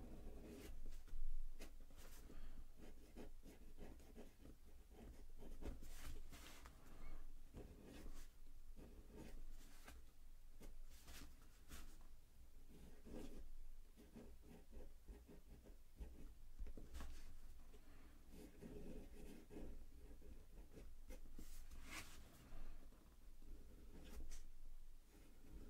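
Aurora 88 flex-nib fountain pen writing on paper: quiet, close scratching strokes in irregular bursts, continuing steadily for a long stretch with no talking.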